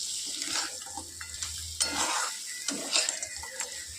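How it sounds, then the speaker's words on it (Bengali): Crab stir-fried in a pan for a spicy crab curry, with a soft sizzle under repeated scraping and clinking of a spatula against the metal pan, close and fairly quiet. "কাঁকড়াটাও একটু কষা কষা হবে, এর মধ্যেই দিয়ে দেব। এবার এটা কষতে থাকবো।"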